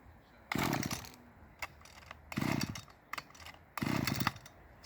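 A two-stroke petrol strimmer engine fires in three short loud bursts, each one catching briefly and then dying, with quiet gaps between the start attempts.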